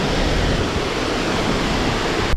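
A glacial meltwater river rushes steadily beside a campsite near Jispa in the high Himalaya on the Manali to Leh route, a dense, unbroken roar of flowing water with no voices.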